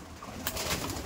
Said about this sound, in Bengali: প্রচুর পায়রা এখানে